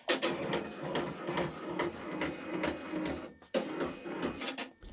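A 10-needle embroidery machine stitching runs with a steady, busy mechanical chatter and rhythmic whirring, briefly dipping mid-way before resuming, close and moderately loud with no voices.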